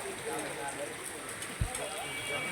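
Heavy rain falls steadily on a waterlogged street where the drains cannot cope, a dense continuous hiss of water with a brief thump partway through.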